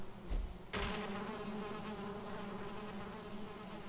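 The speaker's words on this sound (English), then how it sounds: "This is a beehive. These are great because we can get honey from these." A Valheim beehive gives off a steady, close drone of bees buzzing, with a couple of louder swells near the start, and it continues without a break.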